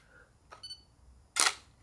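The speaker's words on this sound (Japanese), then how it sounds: "いいんですよね、この軽快なシャッターがね。" A Nikon Df digital SLR fires its shutter in a quiet room. One crisp, close mechanical click stands out, preceded by a fainter soft click and a few brief thin tones.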